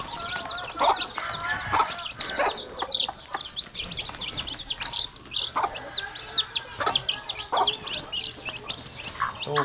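Chicks peep in high, rapid chirps while chickens cluck nearby on a farm, a busy, continuous chorus of close poultry calls with only faint voices.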